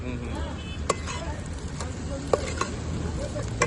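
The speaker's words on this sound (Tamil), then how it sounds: "இப்போ வந்து வெங்காய தக்காளி போடுறேன் சார்" Onion and tomato go into a hot pan at a roadside cooking spot, a continuous loud sizzle with scattered clinks of a stirring utensil against the metal.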